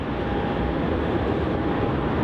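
A Qantas jet, flight QF380, roars steadily as it departs Melbourne Airport bound for Sydney, a dense, continuous broadband engine rumble that holds level from start to finish with no voices.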